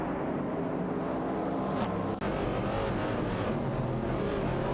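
Racing video game cars, a Dodge Challenger and a Mercury Cougar, roar continuously at full throttle, a dense steady engine drone with a brief dropout midway, no voices.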